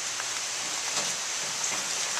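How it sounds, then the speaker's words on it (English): Steady rain pours down outdoors during a thunderstorm, a constant close hiss of drops falling on surfaces with no pauses and no talking. "And here comes the rain."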